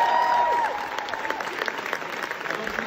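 Theatre audience applauds during the Hamilton West End cast change bows, a steady wash of many hands clapping at moderate level that opens slightly louder and then holds an even, dense texture.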